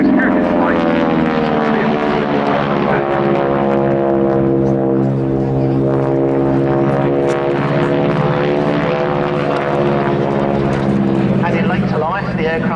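A Mustang propeller aircraft flies at the RAF Cosford airshow. Its engine gives a loud, steady, rich drone that holds for the whole stretch, with a slight swell and fade.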